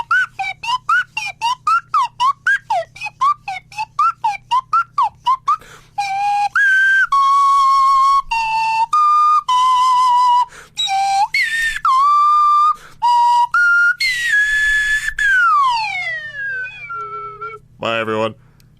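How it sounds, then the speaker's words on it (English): A slide whistle plays a bouncy podcast outro tune: about a dozen short rapid swooping notes, then longer held and gliding pitches ending in a long downward slide and a final warble, loud and close with no talking. "Play the outro music with the slide whistle."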